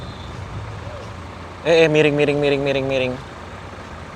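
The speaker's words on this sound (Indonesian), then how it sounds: "ini bus Juragan 99 Trans, kita datang, dia berangkat" The Juragan 99 Trans intercity bus sounds a loud, multi-tone horn call of about one and a half seconds as it departs a roadside restaurant stop, over background murmur and a brief spoken word.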